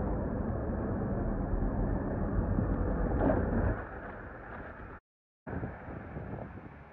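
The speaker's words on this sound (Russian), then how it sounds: "Сегодня какой-то ветер ебейший." Strong outdoor wind buffeting a microphone, a loud steady broadband rumble that drops off briefly near the end before resuming.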